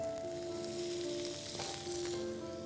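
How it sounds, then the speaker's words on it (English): Tamarind-glazed prawn and pineapple skewers sizzle on a hot grill pan, a continuous close crackle with a couple of brief flare-ups as they settle. "And this directly goes onto a grill pan."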